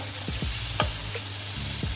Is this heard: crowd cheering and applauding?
no